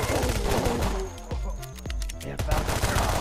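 Video game gunfire fills the moment with loud shotgun blasts and rapid shots, several sharp booms in quick succession with short gaps between them.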